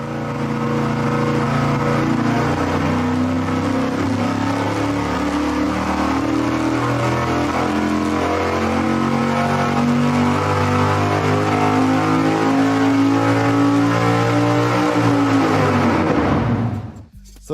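Race engine running on a dyno on Sunoco 116 octane race gasoline, loud and close, its pitch climbing steadily through a long sustained pull before cutting off abruptly at the end.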